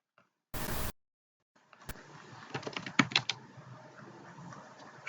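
Keys tapped on a computer keyboard while entering commands in Kali, a close burst of quick uneven clicks following an earlier brief noise, with no voices.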